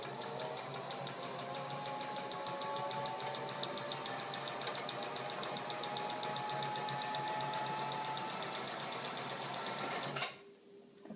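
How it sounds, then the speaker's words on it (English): A sewing machine runs steadily for about ten seconds as it sews a straight line across fabric, with an even, rapid mechanical whir that stops abruptly near the end. "I'm just going to sew a straight line across the"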